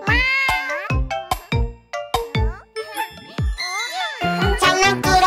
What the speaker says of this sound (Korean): 우리 집 장난꾸러기 고양이